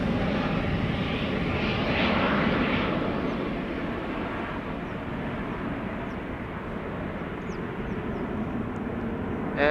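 A departing airliner at Amsterdam Schiphol Airport roars loud and close, its broad engine noise rising a little and then holding steady as it climbs away, with no talk.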